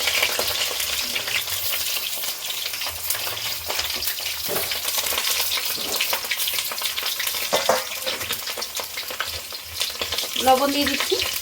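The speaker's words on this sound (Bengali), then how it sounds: "দেখুন বন্ধুরা কড়াইটা গরম হয়ে গেছে, আলুগুলো ভেজে নেব।" Cut potatoes frying in a hot wok, a continuous crackling sizzle with intermittent stirring scrapes and clatter throughout, no talking.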